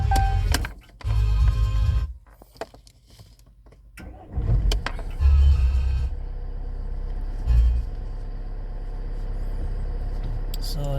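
Jeep engine cranking and starting again after an EGR valve and cooler service: short bursts of starter and engine noise, pauses, then a steady close idle, with someone talking over parts of it.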